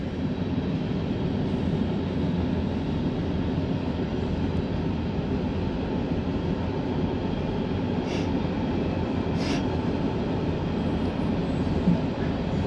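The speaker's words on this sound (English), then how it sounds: "That's the train." A Norfolk Southern freight train rumbles past steadily, a dense continuous roar of rolling cars at close range, with no talking.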